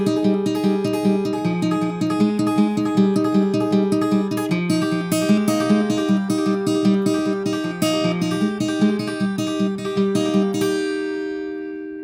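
A plucked guitar plays a steady strummed-and-picked pattern of chords, even and clear throughout, the last chord left ringing out at the end.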